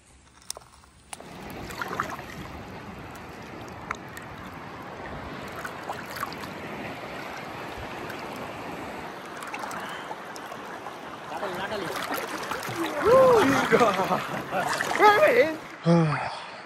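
Water sloshes and splashes against a boat over a steady outdoor wash of sea noise off the Konkan coast, with voices talking and calling out toward the end.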